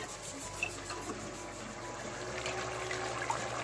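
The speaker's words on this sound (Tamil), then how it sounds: "ஸோ அதுக்காக வந்து நான் தண்ணியை விடப்பேன்" Water is poured into a boiling tin fish and raw mango tamarind curry, giving a steady, soft trickling and bubbling wash that runs continuously at close range.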